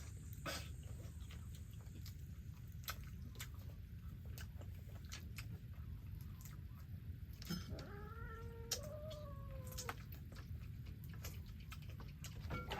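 A cat gives a drawn-out wavering meow partway through, over a constant low outdoor rumble with scattered sharp ticks and clicks around it.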